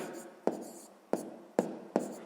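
A pen or chalk sets down a math problem in sharp, evenly spaced strokes, four distinct taps each followed by a brief scratch, close and clear in an otherwise quiet room.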